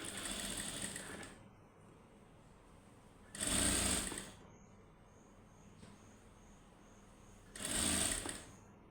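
A sewing machine stitches folded fabric in three separate bursts of rapid mechanical whirring, close and steady, with quiet pauses between runs.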